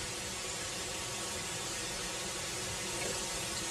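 Continuous rushing water pours steadily into a water filter bag, a dense even hiss like a tap filling a container, with no voices.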